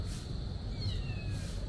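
A cat meows with a thin, rising and falling cry over a steady bed of street and crowd noise in Korea Town, Angeles City, Philippines.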